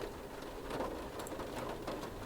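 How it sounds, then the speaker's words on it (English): Rain in the otome game Seduce Me, a steady, faint patter of drops on surfaces that continues evenly without pause and with no voices over it. "It's been a long time since we've gotten rain around here."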